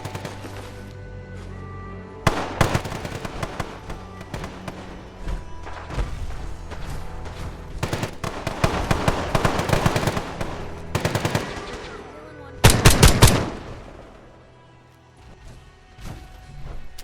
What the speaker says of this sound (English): Piper is definitely using grenades.